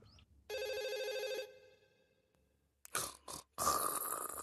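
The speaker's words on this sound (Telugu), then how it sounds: "నీకు ఫోన్ వచ్చింది" A telephone rings in the Doraemon cartoon, one clear electronic ring lasting about a second, followed by a pause and then some brief clattering sounds.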